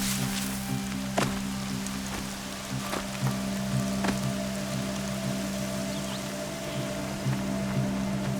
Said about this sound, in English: Rain's slowing.